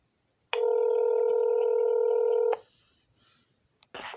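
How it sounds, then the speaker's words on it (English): A single steady electronic phone ring tone, heard while on hold in a call queue, sounds loudly for about two seconds, then cuts off, leaving faint line noise and a brief click. "So they put me in the queue, and now it's ringing again."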